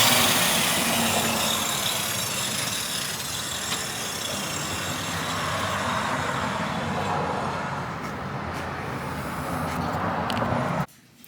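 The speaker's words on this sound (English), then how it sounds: "Sorry about all the traffic noise" Traffic passes outside a home workshop as a steady, broad rumble of engines and road noise, continuous and fairly loud, cutting off abruptly at the end.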